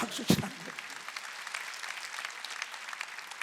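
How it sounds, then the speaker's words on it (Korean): A church congregation at a Sunday worship service bursts into applause, opening with a loud clap and settling into steady, dense clapping that fills the hall, with voices mixed in underneath. "박수 치라, 박수 치라는 거예요"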